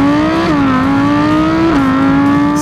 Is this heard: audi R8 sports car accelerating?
yes